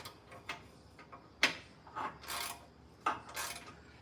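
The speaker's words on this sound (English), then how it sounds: "You gotta love these Craftsman wrenches that are the 172 tooth, so you don't have to go as far back" Craftsman 172-tooth ratchet wrench clicking on an engine during a head gasket replacement: a few faint, irregular bursts of fine ratcheting and mechanical rubbing, close by, with no talk.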